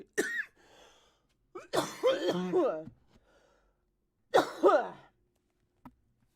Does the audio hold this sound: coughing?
yes